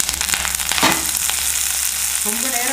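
Close sizzling and crackling of vadagam frying in hot oil for kuzhambu, with a few sharper pops against a steady hiss.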